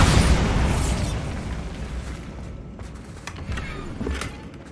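A Bombarda spell blast in Hogwarts Legacy erupts as a loud, close boom with a broad rumbling tail, then fades into a diffuse wash with a few smaller pops trailing after.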